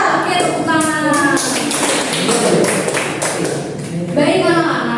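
Children clap hands in a classroom, a steady run of sharp, fairly close taps mixed with children's voices and an adult speaking.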